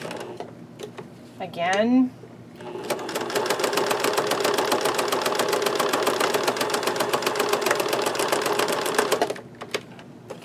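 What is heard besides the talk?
sewing machine stitching a canvas journal cover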